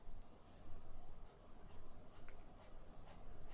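Quiet scratchy strokes from a Moonman Majohn Ti 200 fountain pen with a 14k nib writing on paper, a series of soft rhythmic scrapes and taps with no voices.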